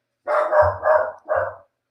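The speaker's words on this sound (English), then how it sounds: "sorry, my dog's just losing it" A pet dog barks three times in quick succession nearby, loud sharp woofs in a quiet room with no talking.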